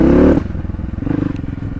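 A dirt bike motorcycle engine on an off-road ride near Baglung bazaar drones loudly up close, then drops to a lower, choppy pulsing rumble.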